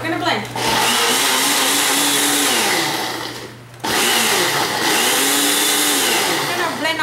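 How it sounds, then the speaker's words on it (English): A kitchen blender pulses taco salsa in two loud whirring bursts separated by a short pause, the motor pitch rising and dipping within each pulse. "We're going to blend on pulse so we can control the consistency and the thickness"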